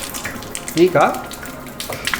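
Water leaks from a water filter tap, a brief, close trickle of running water while a person says a single word.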